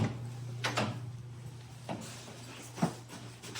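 A pantry door in an apartment kitchen opens or closes, giving a few soft knocks and clicks over a low steady hum in a quiet room.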